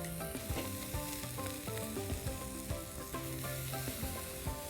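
Carne asada steak sizzles and crackles steadily in a hot pan as it cooks toward medium, with a continuous frying hiss and scattered pops and scraping.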